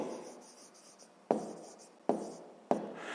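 A number being written by hand on paper for a sixth-grade maths exercise, with soft pen scratching and three distinct sharp taps of the pen, close and quiet.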